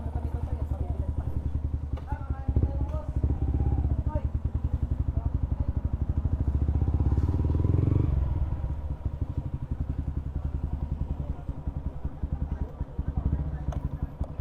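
A motorcycle engine idles steadily close by, its rapid even putter running throughout, with people talking over it at times.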